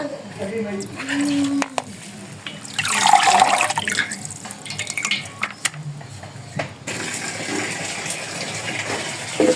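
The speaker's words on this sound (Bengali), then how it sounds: "শাকটা ধুয়ে নিই।" Red amaranth greens being rinsed by hand in water, with splashing and gushing that swell in the middle and continue in smaller drips and sloshes, close by, alongside faint background voices.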